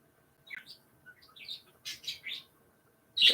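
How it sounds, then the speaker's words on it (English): Pet birds chirping indoors at home in the morning, scattered high tweets and squeaky calls in irregular bursts, soft and somewhat distant, ending with a louder sharp chirp; no talk over them. "My birdies are chirping."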